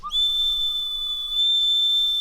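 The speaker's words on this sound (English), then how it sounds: "yeah, that's got a pretty decent whistle now" A carved wooden bird whistle blown in one long, steady, piercing high note that lasts over two seconds, close and loud with a slight breathy edge and no talk.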